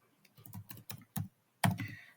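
Keys clack on a computer keyboard in a quick irregular run of close taps, followed by a short pause and a final louder burst, with no voices.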